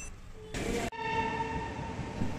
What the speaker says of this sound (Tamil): குஜராத்தின் தலைநகர் காந்தி நகர் ரயில்வே ஸ்டேஷன் இது.